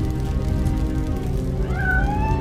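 A cat meows in the video game Robocop Rogue City, with a short rising and falling mew near the end over a constant dense bed of game ambience and music.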